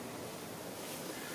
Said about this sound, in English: Now it's kind of windy.